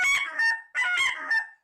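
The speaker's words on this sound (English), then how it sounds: "The goose." A goose honks twice in quick succession, each call a loud, nasal, harmonic blare split into two pulses, close and clear with no other sound around it.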